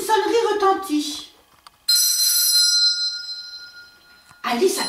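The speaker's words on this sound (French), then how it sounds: "Mais soudain, une sonnerie retentit." A doorbell rings at home during breakfast with a bright, sustained electronic chime lasting over two seconds, set between stretches of a narrator's voice.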